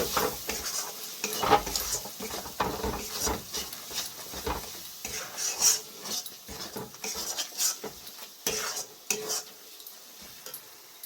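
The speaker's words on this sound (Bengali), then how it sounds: "ধনিয়ার গুঁড়ো 1 চামচ, দিয়ে আমি ভালো করে মিক্স করে নিচ্ছি" Chilli powder and coriander powder being stirred into chicken in a pan, a steady run of close scraping and clinking strokes with a soft sizzle underneath, no talking.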